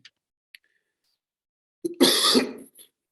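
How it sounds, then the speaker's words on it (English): A person clears their throat and coughs in a short, loud burst near the microphone during a podcast recording, after a couple of faint clicks and near-silence. "it's very annoying to have podcast and I'm coughing"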